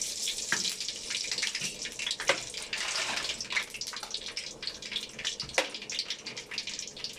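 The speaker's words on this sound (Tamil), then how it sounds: "புளிசாதத்துக்காக தாளிக்கிறோம்" Steady crackling sizzle of mustard seeds and urad dal tempering in hot oil for tamarind rice, with sharper pops scattered throughout, moderately close and continuous.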